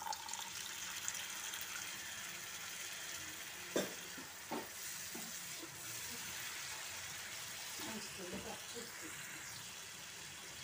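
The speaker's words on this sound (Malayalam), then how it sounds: "ഇതിലേക്ക് കുറച്ച് വെള്ളം ഒഴിച്ച് കൊടുക്കാം കേട്ടോ" Chicken masala sizzles steadily in a pan, a faint broad hiss with a few knocks and stirring scrapes as water is poured in, the frying continuing quietly throughout.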